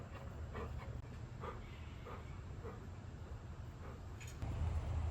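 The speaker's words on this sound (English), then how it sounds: "Stop barking at people walking their dogs" A small pet dog pants and gives soft whimpers indoors, quiet and close, breathy rhythmic puffs with a few faint whines and a slight rise in noise near the end.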